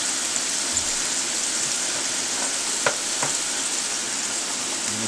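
Onions tossed into a hot pan sizzle and fry with a steady, close hiss while a steak and egg bagel is being made, and a couple of faint utensil clicks cut through the sizzle.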